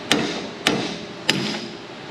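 A hammer strikes a stuck lug nut on a seven-lug Ford F250 truck wheel: three loud, sharp metallic blows spaced roughly evenly, each ringing briefly before the next, with no talking.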